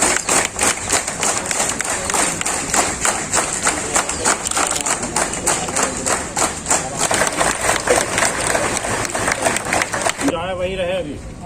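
At a police line ceremony in Bareilly marking the Azadi festival, a large gathering applauds with loud, steady clapping that goes on for about ten seconds, close and dense, before it stops and a voice speaks.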